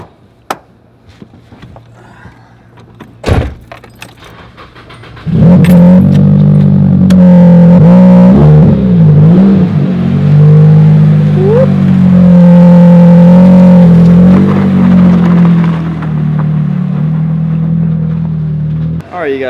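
A drift car's engine idles roughly with a misfire, loud and uneven with choppy, stumbling pulses after a few seconds of near quiet and scattered knocks, continuing steadily to the end.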